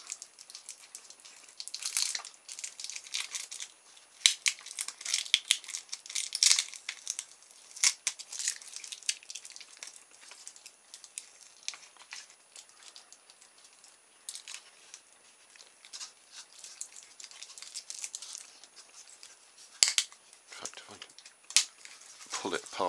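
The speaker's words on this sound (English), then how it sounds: "So if I can cut through the sticky tape without damaging my wires, I should be able to get it all apart" Sticky tape is cut and peeled away from an RC model's wiring up close, in irregular bursts of crinkling, tearing and snipping against a very quiet background.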